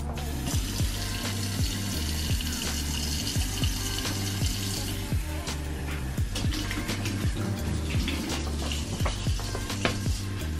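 A kitchen tap runs steadily while two cans of white chili beans are rinsed, a dense splashing rush with clattering bumps of beans and metal throughout, close and loud.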